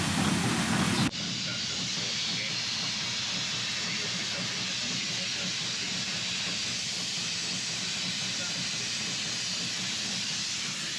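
A loud, continuous hiss of steam from the steam engine of the steamship Sir Walter Scott on Loch Katrine, starting with a brief harsher burst and then settling into a steady roar.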